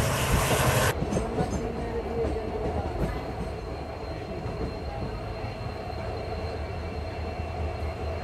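A passenger train on the Parbhani to Nanded line runs with a steady, dense rumble and rushing wind, faint clatter and squeal beneath, after a brief loud blast at the start.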